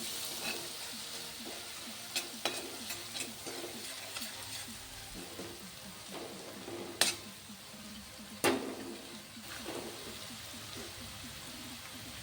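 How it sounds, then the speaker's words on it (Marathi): Green chili thecha roasting in a pan over a medium flame, a low, quiet sizzle broken by occasional spatula taps and scrapes against the pan. "आपला ठेचा आपल्याला मीडियम फ्लेमवर छान भाजून घ्यायचं आहे"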